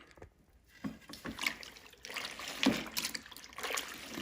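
Dirty water from cleaning up after acid staining a floor is rinsed out, giving faint, uneven trickling and splashing with soft sloshes close by.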